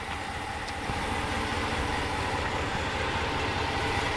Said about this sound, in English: You hear a subtle sound from the exhaust there.